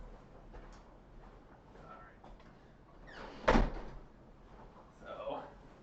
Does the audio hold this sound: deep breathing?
no